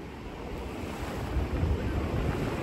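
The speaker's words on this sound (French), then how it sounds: "Écouter le glissement des vagues" Ocean waves wash ashore in a steady, low surging roar with a swell building toward the end, outdoors with some wind buffeting the microphone and no talking.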